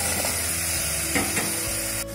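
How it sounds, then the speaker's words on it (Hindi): Potatoes stirred into oil and spices in a pressure cooker for aloo tamatar sabji, giving a steady close sizzle with a few scraping stirs, no talking. "आलू को कंटिन्यू इसी तरीके से चलाते हुए एक मिनट तक भुनेंगे"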